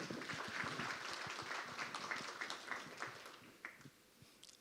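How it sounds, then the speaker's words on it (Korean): Audience applause at a Korean industrial safety conference seminar, welcoming a university professor to the stage: steady, dense clapping from a seated crowd, moderately distant and fairly quiet, thinning slightly toward the end. "여러분 힘찬 박수로 맞이해 주시기 바랍니다."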